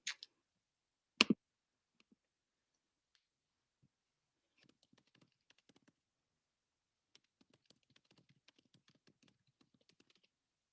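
Typing on a computer keyboard, sparse light key taps in short irregular bursts with long quiet gaps, preceded by two sharper clicks at the start, near and faint.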